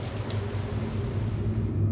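Heavy rain pouring outside, a dense steady wash of drops with a low rumbling undertone, continuous and fairly soft.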